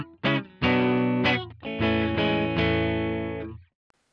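Electric guitar through a Line 6 POD Express on its clean Fender Princeton Reverb amp model, playing a few ringing chords and notes with a short gap before a longer sustained chord that decays, close and alone.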